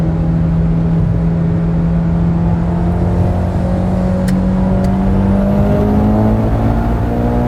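A modded Mitsubishi Evo X drives and accelerates, its engine whirring continuously and climbing in pitch as it gathers speed, steady and close throughout.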